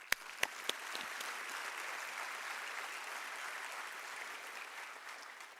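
Steady, moderately distant applause from a graduation audience honouring doctoral supervisors, a few sharp individual claps opening into a continuous even wash of clapping that holds to the end.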